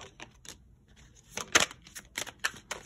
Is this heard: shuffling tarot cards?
yes